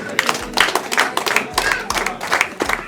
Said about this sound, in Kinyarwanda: reka tumwongere amashyi menshi cyane